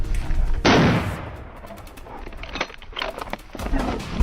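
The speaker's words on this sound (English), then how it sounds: "a sharp gunshot rang out decisively" A sharp gunshot cracks out in a forest during a wild boar hunt, a single loud blast with a rough tail, followed by quieter rustling and scattered noise.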